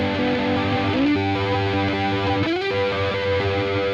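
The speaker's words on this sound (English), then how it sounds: "Notice how I'm nicely sliding into every single triad shape that I'm playing." Distorted electric guitar with a chorus-like effect slides up into successive triad shapes, sustained chords gliding smoothly in pitch between positions, loud and alone.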